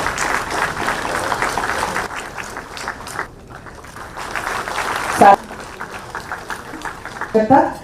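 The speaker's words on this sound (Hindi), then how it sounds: "तालियों की गूंज भी रही" Audience applause at a ceremony for the distribution of appointment letters, a sustained clapping crowd that fades briefly midway, then returns alongside a speaking voice and a few sharp bursts.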